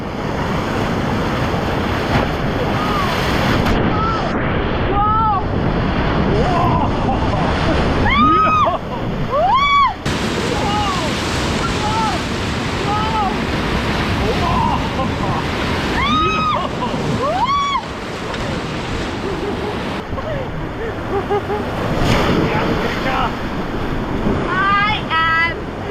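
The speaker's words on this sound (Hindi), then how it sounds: "ये जो 3 एक साथ रैपिड्स थी उसका लास्ट रैपिड है ये" Whitewater rapids on a river at Rishikesh roar loudly and continuously from a raft, with surging waves, wind buffeting and rafters shouting and whooping over the rushing water.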